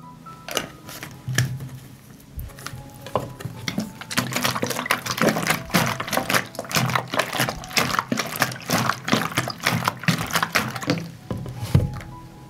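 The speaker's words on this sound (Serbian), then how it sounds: "Zatvorit ću flašu i dobro promućkati." A closed five-litre bottle of water mixed with vinegar is shaken hard, its liquid sloshing and splashing close up in quick, uneven surges that continue for several seconds with no voices.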